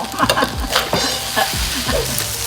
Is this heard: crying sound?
no